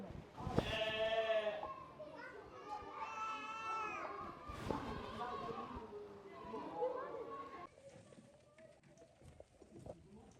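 A goat kid bleats at a children's farm in the Vincennes woods, several wavering cries in a row, close and clear, with people talking nearby and footsteps or shuffling beneath.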